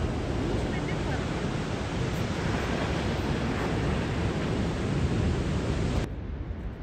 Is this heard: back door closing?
no